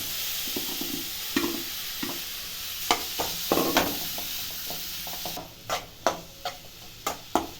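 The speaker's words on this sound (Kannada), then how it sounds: "ಒಂದು ಎರಡು ನಿಮಿಷ ಫ್ರೈ ಮಾಡ್ಕೊಬೇಕು ಕಾಯಿ ಸಕ್ಕರೆ ಹಾಕಿರೋದು" Grated coconut and sugar frying in a pan for rusk laddu, with a steady soft sizzle and repeated scraping strokes of a spoon stirring the mixture, no voices.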